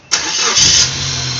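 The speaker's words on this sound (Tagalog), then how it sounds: "Ngayon, i-start na natin para mag-circulate na yung langis." A Suzuki APV engine cranks and catches right after an oil change, a sharp start settling at once into a steady, close idle.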